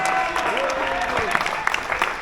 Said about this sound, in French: je voudrais qu'on applaudisse Victoire